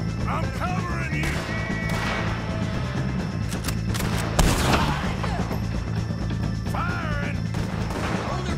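Gunshots ring out in a Red Dead Redemption 2 shootout against the O'Driscolls, scattered cracks and one heavier blast over steady game ambience, with voices shouting in the background.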